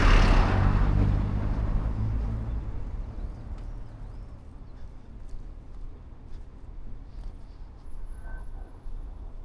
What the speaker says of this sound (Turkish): Yani motorcu abimiz gidiyor.